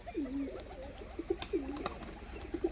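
A white female pigeon performs a tumbling display flight, giving a few faint, sharp wing claps over soft cooing from nearby pigeons.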